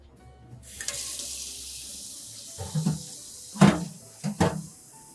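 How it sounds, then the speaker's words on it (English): Tap water runs steadily into a colander as rice is rinsed, with sharper splashes and sloshing bursts as the grains are swirled under the stream. "rinse it in a colander, rinse it till it runs clear"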